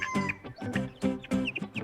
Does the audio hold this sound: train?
no